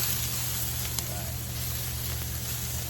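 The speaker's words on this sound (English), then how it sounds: "Throw all these mushrooms on. I'm gonna throw all those on." Mushrooms sizzling in canola and olive oil on a Masterbuilt Gravity Series 800 griddle, a steady close hiss and crackle with a low hum running underneath throughout.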